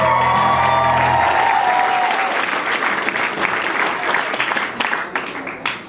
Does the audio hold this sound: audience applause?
yes